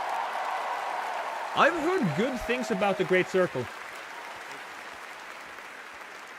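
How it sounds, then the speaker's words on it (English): An audience applauds at the Game Awards live event, a steady wash of clapping heard throughout under someone talking close by. "let's give a big round of applause to these two guys for the Great Circle."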